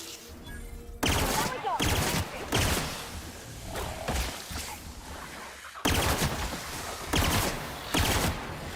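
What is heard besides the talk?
gunfire from The Outer Worlds video game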